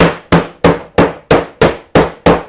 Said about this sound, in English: Now we're just going to take a hammer.